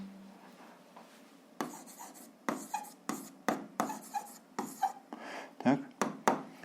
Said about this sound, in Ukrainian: Так, то записуємо.